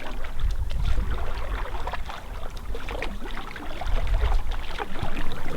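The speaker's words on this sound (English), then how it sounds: "I could bring it right towards my rail and then slice it out the back." A stand-up paddle blade slicing out of the water at the board's rail after a draw stroke, with continuous close splashing and water swirl, steady throughout.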